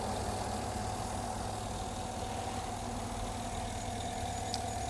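A 2010 GMC Yukon Denali's 6.2-liter V8 idles steadily, a smooth, even low rumble with a constant hum that holds unchanged throughout, close by and alone with no voices.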